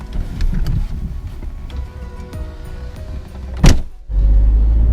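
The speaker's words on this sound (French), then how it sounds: "Donc on est en train de rouler avec la Twingo" Renault Twingo I 1.2 8V driving on the road, heard from inside the cabin: a steady low engine and road rumble with a brief whirring burst near the end, followed by a louder, fuller drone.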